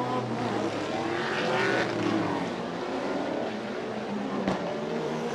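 Race cars, including a Porsche Carrera Cup car and a Toyota AE86, run on a street circuit in Chonburi, Thailand, with a steady, loud engine roar as the cars pass.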